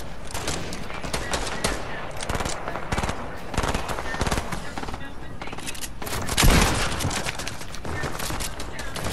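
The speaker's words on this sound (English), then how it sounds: "I hear gunshots" Continuous bursts of rapid gunfire in Fortnite: Battle Royale over a steady noisy background, with people talking over the shooting.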